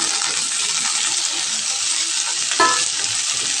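Cumin and a chopped medium onion fry in a pan with a steady, close, dense sizzle throughout. A brief clink of a utensil sounds near the end.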